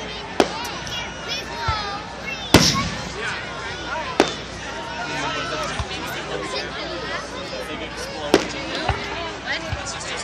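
Canada Day fireworks in 2014, sharp explosive cracks and booms scattered at irregular intervals, some near and loud, others fainter, over a steady murmur of crowd chatter and voices talking nearby.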